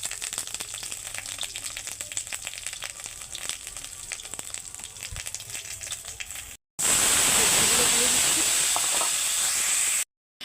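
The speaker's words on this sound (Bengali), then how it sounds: "সরিষার তেল দেওয়ার পরে আমি 5 ফোড়ন অল্প," Five-spice tempering crackles in hot mustard oil for a village-style chikni shak dish, a soft sizzle for several seconds, then a sudden loud, dense burst of frying hiss as more goes into the pan, ending abruptly.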